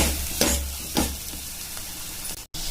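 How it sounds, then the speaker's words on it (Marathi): Misal spice masala paste sizzling in oil, with a couple of soft stirring scrapes and a brief dropout near the end. "याला तेल सुटूस आपल्याला फ्राय करायचं आहे"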